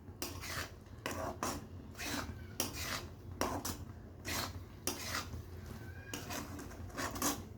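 A utensil scrapes and rubs against a pan while gram-flour batter is stirred into sugar syrup for motichoor laddoo, making repeated rhythmic strokes that sound close and fairly quiet.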